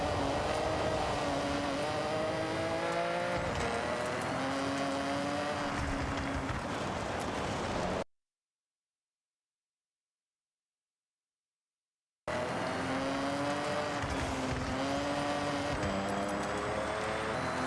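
Car in the Forza Horizon racing game fitted without its intended engine, giving a steady revving engine drone with shifting pitch and tire noise that cuts to silence for about four seconds and then resumes.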